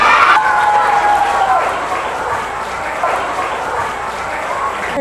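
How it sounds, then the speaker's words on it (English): A crowd of elementary school children in an assembly cheers, yells and screams loudly as a curtain opens, a dense sustained roar of young voices with a brief high shriek near the start that slowly eases off. "I want everyone, once you see Mrs. Colley, to cheer, to yell, to scream"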